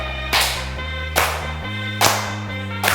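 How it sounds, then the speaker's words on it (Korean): Sharp hand claps ring out about four times at a steady, slow pace over loud, bass-heavy upbeat exercise music, each clap crisp and near. "박수힘차게"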